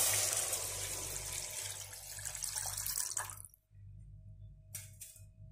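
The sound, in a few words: water poured into roasted masala in a pan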